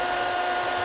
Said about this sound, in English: So we've got the Nail Chemy dust extractor. Whack that on.